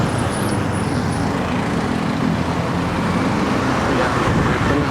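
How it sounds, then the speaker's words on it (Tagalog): Road traffic heard from a motorcycle on a road in Castillejos, Zambales, a constant broadband roar of engines and wind with vehicles close by and a faint voice underneath. "Ito na ang traffic."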